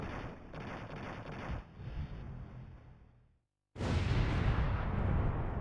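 Explosions in the Dreamcast video game Rocketron: dense, continuous rumbling blasts that cut out briefly, then burst back loud and broadband.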